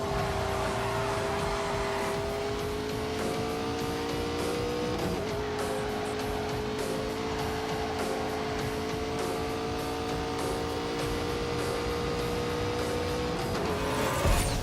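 A car engine in the Grand Tour racing video game holds a steady, sustained whine that dips once partway through and then climbs again near the end, with faint tire and road noise beneath it.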